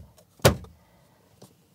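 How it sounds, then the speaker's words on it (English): A hard plastic cluster visor in a Chevrolet Silverado being knocked loose from its clips, one sharp plastic knock and pop followed by a fainter click, close and alone. "we're gonna be removing this hard plastic cluster visor by knocking up on the bottom of it to pop it out of the clips"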